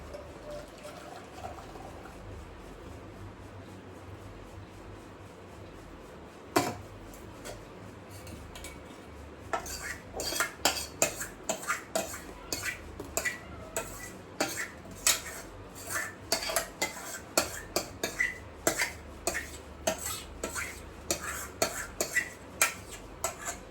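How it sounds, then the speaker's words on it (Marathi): A pot of milk set in cold water and stirred constantly, at first a quiet hiss, then a steady run of light metallic taps and scrapes of a spoon against the pot, fairly soft, with no speech. "गार पाण्यामध्ये छान ठेवते आणि सारखं हलवतीये"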